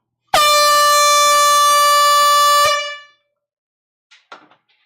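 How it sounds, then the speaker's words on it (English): An air horn gives one long, loud, steady blast lasting over two seconds, then cuts off sharply. A few faint brief knocks follow at a vinyl record sale. "Brian, I'm about to blow the air horn."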